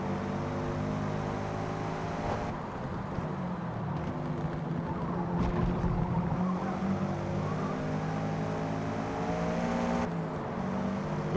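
A Toyota GR86 or Camry TRD race car engine in Forza Motorsport drones steadily and loudly throughout, its harmonic note holding a continuous engine tone with slight shifts in pitch.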